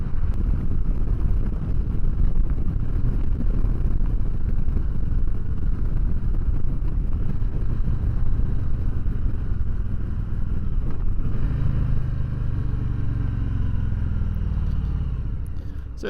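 Steady, heavy wind roar buffets the microphone while riding a chrome and silver 2019 Harley-Davidson Low Rider, a loud continuous rush with the engine's low drone underneath that eases slightly near the end.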